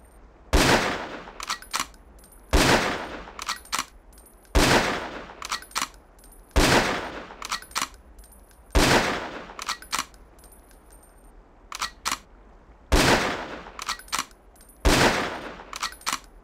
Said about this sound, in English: The sniper rifle is equipped with a scope for long-range shots.